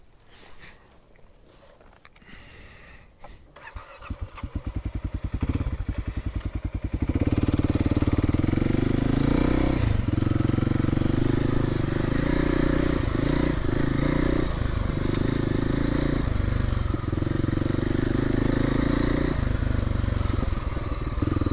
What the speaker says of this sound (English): let's go ahead and get on the bike here and rock and roll